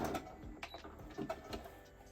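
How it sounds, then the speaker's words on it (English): A sewing machine running a zigzag stitch around the seam of a fabric project bag, heard as quiet, rapid mechanical clatter in short uneven bursts, fairly close but faint. "go around with a zigzag stitch just to make sure I catch everything"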